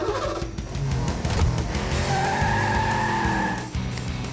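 Cartoon robot car squeals its tires in a sustained skid, then the engine revs up as it drives off, loud and close.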